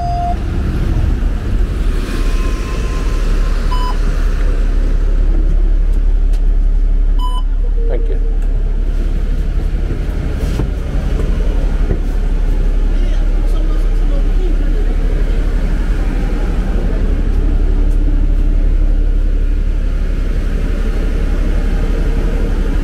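An old city bus ride to Aldi in Edgbaston: a constant low engine rumble and road noise persist throughout at a steady, fairly loud level, with occasional faint clanks and some voices.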